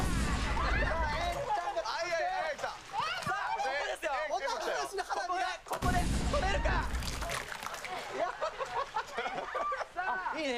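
A lotion bazooka fires on an outdoor battle-athletics obstacle course, giving two loud, broad blasts a few seconds apart amid constant excited talk and commentary.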